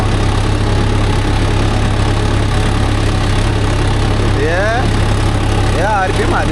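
A Mahindra Yuvo Tech Plus 585 4WD tractor working a field with a 9-tine cultivator: a loud, steady low engine drone running throughout at constant revs, close to the listener, with someone talking over it.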